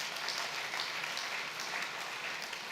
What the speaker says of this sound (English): the chairman deserves a round of applause